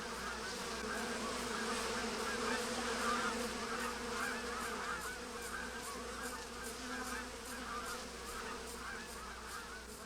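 Bees buzz steadily around beehives set in apartments in a Second Life virtual world, a continuous dense drone mixed with faint honk-like calls, even and unbroken throughout.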